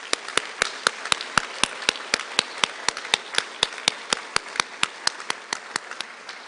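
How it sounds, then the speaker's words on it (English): Applause at a police recruit class graduation ceremony: steady, evenly spaced sharp claps sound like a single pair of hands close to the microphone, with a soft background of more crowd clapping throughout. "please join me in giving Recruit Class 78 a round of applause"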